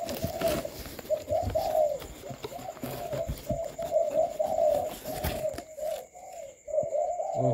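Pigeons coo steadily and close by, a repeating low rolling call that runs almost unbroken, with light rustling and handling noises underneath and no talking.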